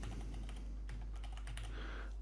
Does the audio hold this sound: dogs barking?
no